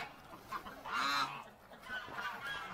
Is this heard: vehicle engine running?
no